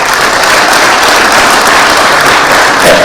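A crowd at a political rally applauds, dense loud continuous clapping filling the whole stretch without a break.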